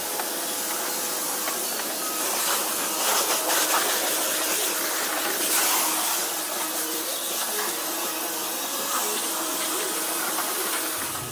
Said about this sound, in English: to finish, we want to do a spot-free rinse